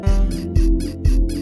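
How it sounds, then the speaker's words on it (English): Music plays with a rhythmic creaking squeak like bedsprings, repeating about every half second over a low thumping beat. "Was someone fucking on a squeaky bed in the studio?"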